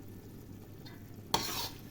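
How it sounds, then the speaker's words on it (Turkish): A pot of roasted eggplant preserve comes to a boil, a quiet low simmer broken by one sharp bubbling plop and a short hiss near the end. "Evet gördüğünüz gibi artık kaynamaya başladı"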